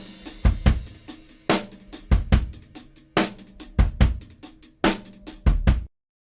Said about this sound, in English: So it's just a simple acoustic drum loop.